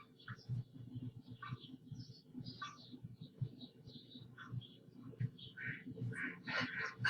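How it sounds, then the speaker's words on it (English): A duck quacks repeatedly among other backyard birds, with bursts of chirps and calls overlapping in a busy outdoor chorus at moderate distance. "I like the duck."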